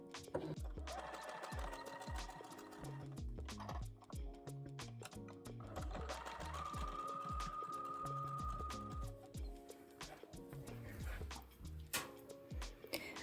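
A sewing machine runs zigzag stitches on a stretch lace bra. The needle clatters in fast repeating bursts with brief pauses between runs, close and fairly quiet, with a higher mechanical whine partway through.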